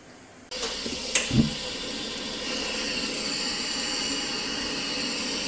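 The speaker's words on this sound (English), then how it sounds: "Got some hot water running in the shower there." A sudden steady rush of hot water starts running in a shower inside a toy hauler camper and keeps going as a broad, even hiss, close by, with a couple of brief knocks early on.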